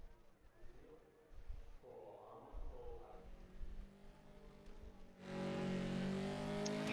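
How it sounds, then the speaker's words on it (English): Sim racing game cars doing burnouts late in qualifying, a muffled engine drone under commentary that jumps to a loud, sustained high-revving tire-smoking roar for the final seconds. "Get some burnouts in the last seconds of qualifying."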